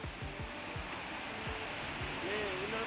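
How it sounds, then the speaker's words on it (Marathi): A steady rushing roar of falling water fills the air, constant and broad, with a voice briefly audible over it. "आणि खाली आपला पाण्याचा होल राहतो तो बघा धबधबा"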